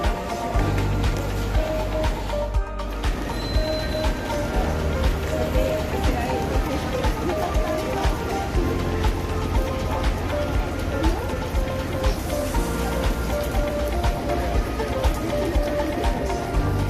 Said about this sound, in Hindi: कोको पार्क, बारिश हो रही है थोड़ी थोड़ी सी।